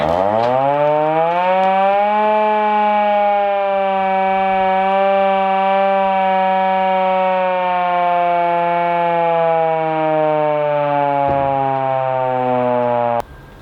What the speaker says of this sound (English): I set off the air raid siren